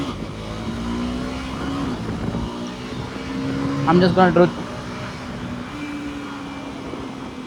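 A KTM Duke 390 motorcycle engine winds down under engine braking without brakes, a steady droning tone with shifting pitch running throughout, while a rider speaks briefly over it midway.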